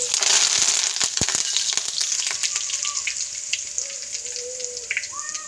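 Cumin seeds and curry leaves hit hot oil in a wok, giving a loud, close sizzle and crackle that settles into a steady frying hiss.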